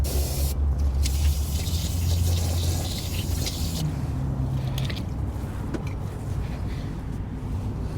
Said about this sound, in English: give this a quick spray with some brake cleaner just to get some of that oil out